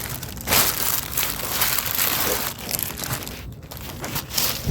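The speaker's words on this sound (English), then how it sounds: "So what we're going to do is, we have this plastic bag here, right? We're gonna grab this." A plastic bag is grabbed and handled close up, giving a continuous loud crinkling and rustling with brief pauses, and no voices over it.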